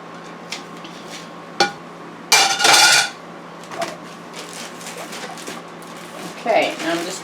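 Chicken wings being shaken in a bag of flour, with a few rustling, knocking bursts, the loudest near the middle, between quieter pauses and a voice talking nearby.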